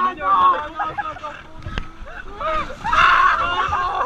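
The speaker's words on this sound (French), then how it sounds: "Oh putain, la vague elle va faire mal." Water waves wash and splash over people at a water park at night, loud turbulent sloshing that surges near the end, with people shouting and talking throughout.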